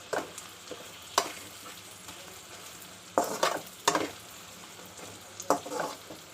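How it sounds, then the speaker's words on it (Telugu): Liver pieces fry in hot oil with a constant soft sizzle, broken by occasional sharper scraping and stirring knocks in the pan, close and moderately quiet. "నూనెలో బాగా వేగుతుంది. ఇంకా బాగా వేగాలి."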